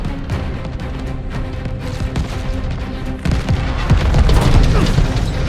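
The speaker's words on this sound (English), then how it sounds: "Watch that tracer fire." Tracer gunfire and explosions rumble through a video game air battle, a dense continuous barrage of booms and rattling shots that grows heavier and louder toward the end.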